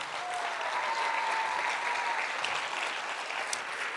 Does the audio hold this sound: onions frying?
no